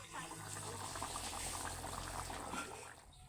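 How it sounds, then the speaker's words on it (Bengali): Curry gravy for banana flower kofta bubbling as it boils in a pan, a steady close, dense simmering burble running throughout without any talk. "এবার আমি এই ঝোলটা ভালো করে ফুটিয়ে নেব"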